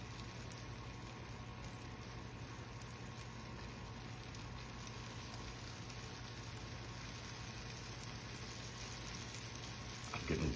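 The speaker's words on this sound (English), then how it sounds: "Getting too much butter out and it's frying." Steady, close sizzling of butter frying in a pan with biscuits, a continuous crackling hiss with no voices.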